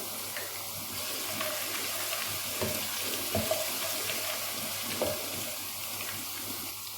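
Whole red chilies fry in oil for a chicken karahi, giving a steady, even hiss of sizzling with a few faint crackles beneath it, moderately loud and free of speech.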